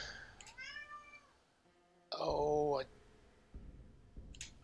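A cat meows in a drawn-out rising and falling call, then gives a louder, brighter meow, heard close over a soft low hum, with a person speaking briefly.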